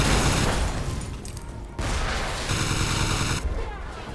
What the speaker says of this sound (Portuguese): Aqui eu estou utilizando o sistema de metralhadora